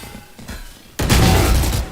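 A loud, close gunshot bursts out in a deathmatch video game after a quieter stretch of faint background noise, followed by a sustained roar of continuing fire and echo.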